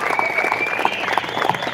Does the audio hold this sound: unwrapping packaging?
no